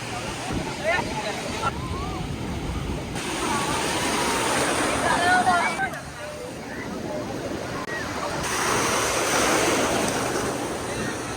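Sea waves wash and roar steadily on a beach in Goa, loud and continuous, with wind buffeting the microphone and faint voices mixed into the surf.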